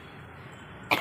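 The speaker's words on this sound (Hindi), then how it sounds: "खांसी हो गई" A woman coughs once, a short loud burst at the very end of a quiet household recording.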